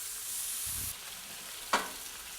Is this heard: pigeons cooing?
no